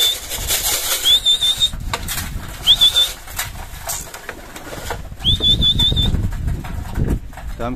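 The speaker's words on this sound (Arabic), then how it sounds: "حمام كده كله نزل اهو" A flock of pigeons flaps its wings as the birds fly down to a rooftop loft, with bursts of fluttering, sharp whistle tones and brief background voices.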